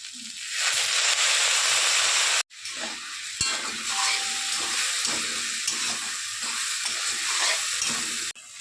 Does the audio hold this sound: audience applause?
no